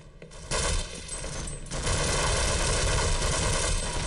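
Rapid automatic gunfire from a weapon in Half-Life, a dense unbroken rattle of shots that starts after a brief pause and grows louder, close and dominant to the end.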